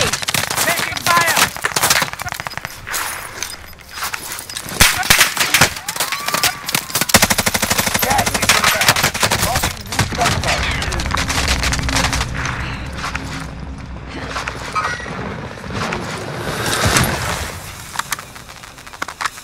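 Dense rapid automatic gunfire and scattered shots crackle through an online shooter match with Bruen and Bullfrog guns, loud and near in bursts nearly throughout, while a player talks excitedly over the firing.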